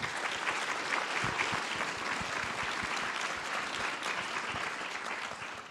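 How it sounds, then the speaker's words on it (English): A dense round of applause from a conference audience at a democracy forum, steady clapping throughout at moderate distance with a few sharper individual claps standing out. "maybe we'll give them a round of applause,"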